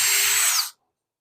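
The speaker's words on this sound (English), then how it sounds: "drill a hole in wood" A drill driver with no hammer function spins a bit into wood, a loud, close, steady whine that runs for about half a second and then cuts off abruptly into silence.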